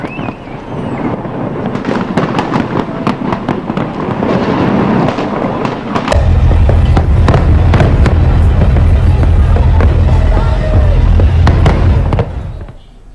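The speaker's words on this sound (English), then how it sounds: "fireworks lit up the sky in the backdrop of Greek capital's ancient landmarks to quietly usher in the new year" New Year fireworks burst over the ancient landmarks of Athens, with sharp cracks and booms rattling out in quick succession, growing into a dense, loud, continuous barrage before stopping abruptly.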